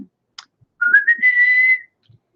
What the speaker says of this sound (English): Or D, whistling.